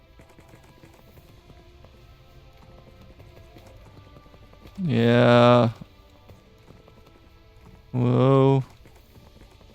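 A horse galloping in the Minecraft video game, with a steady patter of hoofbeats running quietly beneath two short, loud bursts of a voice.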